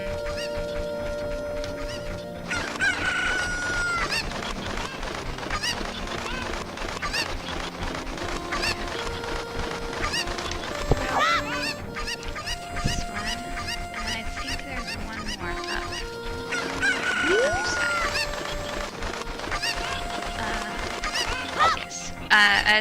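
Game chickens in Zelda Ocarina of Time cluck, squawk and crow in loud overlapping bursts across a long stretch, set against continuous background game music with no voices.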